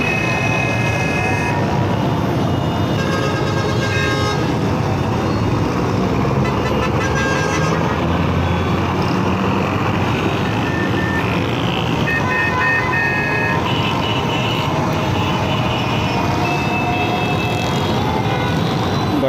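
Evening traffic jam at Korangi crossing in Karachi: repeated car horns toot and honk over a dense, steady rumble of idling and crawling vehicles throughout.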